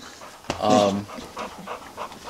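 Pit bull dogs panting while playing mouthy with each other, a burst of breathy huffing with a short whine near the start, followed by softer quick panting close by.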